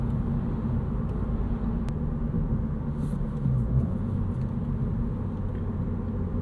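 A 2025 Honda Civic Si cruises at a normal pace, its engine a steady low rumble under constant road noise from inside the cabin, with no sharp revs.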